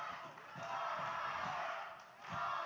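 A wrestling arena crowd roars in swelling waves during an independent pro wrestling match, loud and dense, with chanting and cheers rising and falling.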